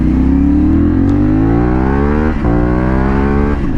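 A CFMOTO 450SR sports motorcycle revs hard through rising gears, each pull climbing in pitch before brief dips at shifts, loud and close with a rasping exhaust.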